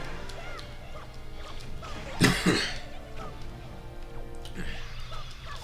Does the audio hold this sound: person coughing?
yes